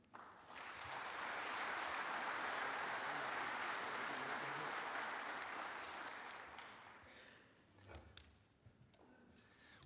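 An audience applauds as Congressman David Rouzer is welcomed to the podium. Steady, full clapping builds quickly, holds for several seconds, then fades out into a few scattered taps.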